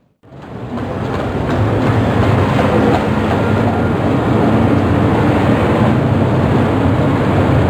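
Blackpool tram running along the 11-mile coastal tramway between south Blackpool and Fleetwood, a loud steady rumble and rattle of wheels on rail that swells in quickly and then holds close and constant.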